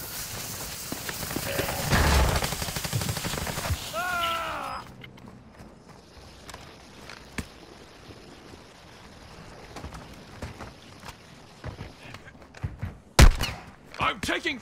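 Gunfire in Call of Duty: Modern Warfare II comes as scattered bursts and single shots, at first amid dense rumbling action, then sparser distant pops with a loud close burst near the end.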